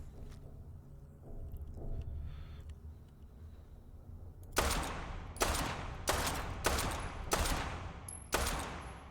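A .38 pistol fires in the video game Fallout 4: six loud, sharp shots spaced about evenly, following several quieter seconds of low ambient rumble.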